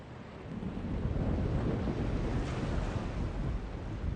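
A chaos storm approaching from the west in the video game The Longest Journey: a steady, heavy roar of wind and rumbling surf-like noise that swells in and holds loud and broad throughout, with no voices.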